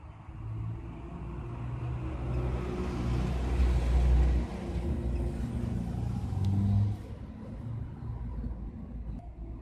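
Steady engine rumble of a 2017 Chevrolet Spark GT idling, a continuous low drone with slight swells, close and without voices.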